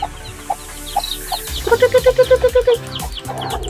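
Aseel chicken chicks call in their enclosure. Scattered single peeps come first, then a quick rhythmic run of about ten short calls, with rustling and scuffling underneath.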